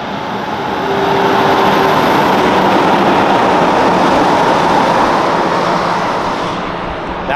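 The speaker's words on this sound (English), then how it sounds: "seeing these big road trains and stuff go past" A big road train rolls past on an outback highway, a loud sustained broadband roar that swells after the first second, holds steady for several seconds, then eases slightly as it passes close by.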